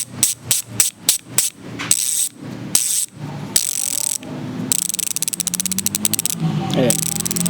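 A bicycle rear hub's freewheel ratchet clicks loudly and close, first in short spun bursts of rapid ticking, then in a long, fast, continuous buzz of clicks as the wheel coasts.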